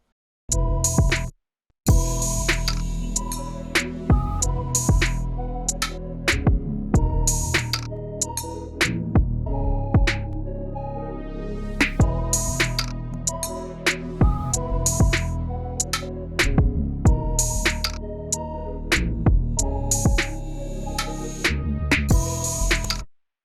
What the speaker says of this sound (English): So the first part of the beat sounds like this.